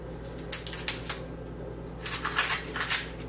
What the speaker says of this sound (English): We are going to peel our onion.